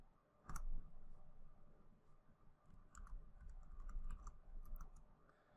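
Keys clack on a computer keyboard as a command is typed, a scattered run of light clicks with a louder tap near the start, fairly close over a quiet room hum.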